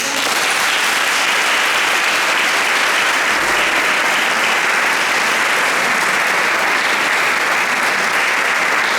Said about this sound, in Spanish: vamos a recibirlo con un fuerte aplauso